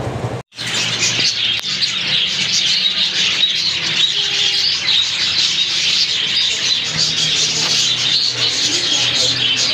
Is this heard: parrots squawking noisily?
yes